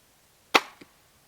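A single sharp shot from a Barnett Ghost 400 crossbow, a quick snapping thump followed by a faint second knock, close by in otherwise quiet, chilly winter surroundings.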